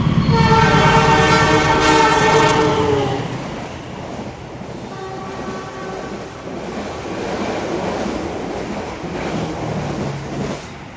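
Menoreh passenger train at Pemalang station, its loud horn blaring for a couple of seconds, then the rumble and clatter of rail cars rolling through, with a second horn note later.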